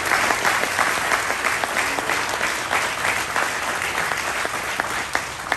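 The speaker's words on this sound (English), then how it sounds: "I think all of us together need to give ourselves a round of applause." A crowd gathered under a tent at a groundbreaking for a housing and resource center in Brockton claps steadily, a close, dense round of applause with a few sharper individual claps, with no speech on top.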